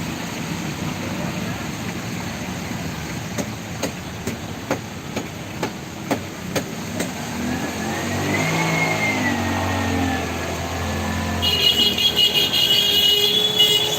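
A motorbike engine idles and revs at a busy fish market, rising in a louder swell through the middle and end amid crowd noise and clattering taps, with no one speaking.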